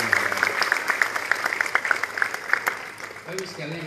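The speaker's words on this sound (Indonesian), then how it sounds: "Kita beri tepuk tangan." Audience at a governor's inauguration ceremony for youth sports halls applauds, steady mid-level clapping with scattered sharper claps, fading near the end as a voice begins speaking.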